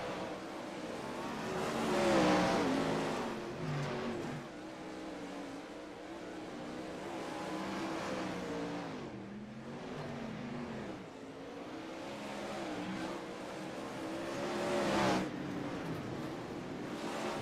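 A field of 410 sprint cars in a sim racing game roars around the track, engines droning and swelling as cars pass, with rising and falling revs in a steady, moderately loud blend and no talk heard.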